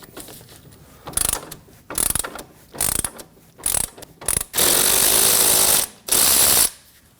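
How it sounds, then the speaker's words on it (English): A ratchet with a 10mm socket, used with a 21mm wrench on the outer tie rod nut of a 2015-2024 Ford Edge, clicks in several short close bursts, then two longer continuous runs of rapid ratcheting. "go ahead and use a 21mm wrench and then a 10mm socket on top"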